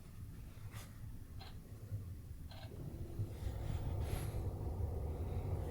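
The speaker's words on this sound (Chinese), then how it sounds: "然后我再把空调打开。" Air conditioning switched on inside a NIO ES8 cabin with the windows closed: a low, steady fan whoosh that grows noticeably louder partway through, with a few faint ticks over it and no talking.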